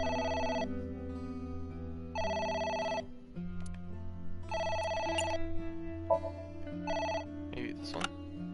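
A telephone bell rings in four loud, evenly spaced bursts of about a second each, with brief rustling and clicks between the later rings.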